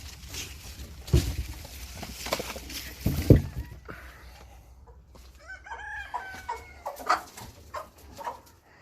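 Roosters and chickens in a coop, including a sultan rooster, make loud bursts of clucking and squawking followed by nearby crowing calls, with scuffling movement in between.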